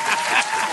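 A short burst of applause sound effect, steady dense clapping at even loudness with no voices over it, cut off after under a second.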